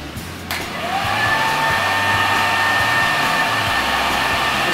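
A handheld hair dryer blows steadily and loudly at a salon, drying hair during styling, a constant close whoosh with a faint whine that rises after a brief start and holds without break.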